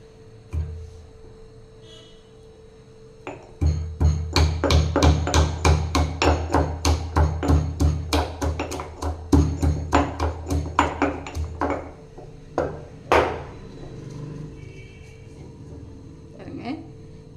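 Rapid, steady pounding of turkey berries in a mortar, dozens of quick dull thuds in a row that slow and fade, with a low hum in the background.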